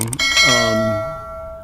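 A bright bell ding rings out once, with a clear ringing tone that fades slowly over about a second and a half, heard alone with no talk.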